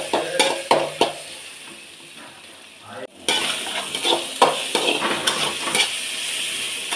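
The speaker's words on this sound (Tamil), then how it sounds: "எண்ணெய் நல்லா காஞ்சிடுச்சு. அதில் அப்படியே இப்போ வறுக்க வேண்டியது தான்" Sun-dried bitter gourd frying in hot oil in a pan, crackling and sizzling up close, with utensil clinks and scraping stirs, a brief gap, then a louder burst of frying.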